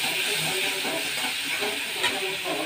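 Prawns sizzle in oil with cumin, garlic paste and onion paste, giving a steady, close, bright hiss with a brief louder crackle partway through.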